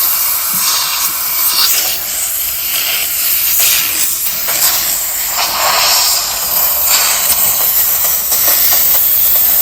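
A Bissell Steam Shot Deluxe hard-surface steam cleaner blasting steam at dirt: a loud, close, continuous hiss that swells and eases in short surges with no talking.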